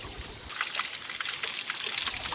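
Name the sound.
water trickling while being filled from a mountain spring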